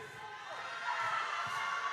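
Crowd at a high school playoff basketball game, a steady low murmur of spectators in a gym with occasional thumps, heard under a commentator's voice.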